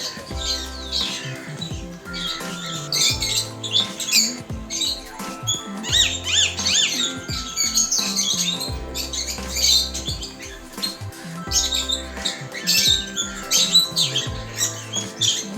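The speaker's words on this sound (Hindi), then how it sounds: "चिड़िया की नई नई किस्में हैं यहाँ पे।" Varied birds at Chhatbir Zoo chirp and squawk in a busy, overlapping chorus, with repeated calls at moderate distance throughout and no talk.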